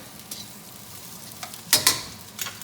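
Squash and zucchini cooking in a pan for chicken piccata, a steady close sizzle with two loud bursts of stirring near the end and lighter clinks scattered throughout.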